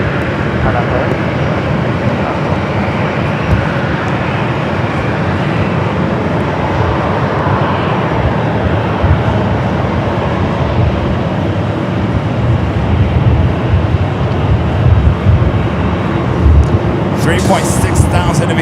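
An airplane taking off from runway 24 left at LAX, a continuous broad jet roar heard from a distance and holding steady, with someone talking over it.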